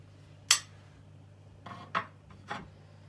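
Olives are dropped into a bowl and stirred for an olive salad, giving a sharp clink followed by a few quieter knocks and scrapes against a faint steady hum.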